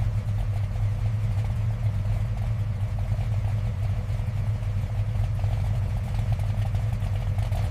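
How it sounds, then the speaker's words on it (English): A Chevrolet Bel Air V8 from the 1955-1957 era idles through its dual exhaust, giving a steady, low, rumbling burble that carries on evenly at close range with no talking. "The dual exhaust system, a performance hallmark of our V8 models, ensures better flow. Just listen to that distinctive burble."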